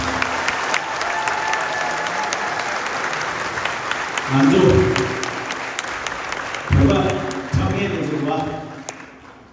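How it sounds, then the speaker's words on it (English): An audience at a film screening applauds the cast, a dense, steady clapping with a voice speaking over it in two short bursts. "let's give a big round of applause for my actors"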